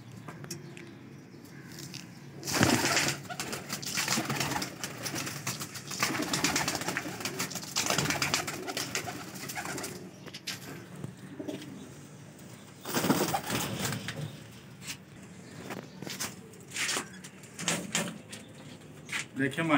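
Baby Teddy pigeons in a Lahore loft coo softly in low, intermittent calls close by, partly masked by someone talking and some rustling handling noise.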